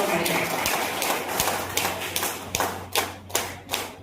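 Audience clapping in a hall, scattered sharp claps building into a run of separate loud slaps toward the end, mixed with a speaking voice.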